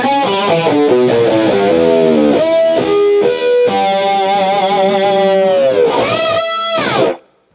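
Distorted guitar tone run through an MXR Rockman X100 analog tone processor pedal, loud and sustained with chords and bending notes for about seven seconds before cutting off abruptly.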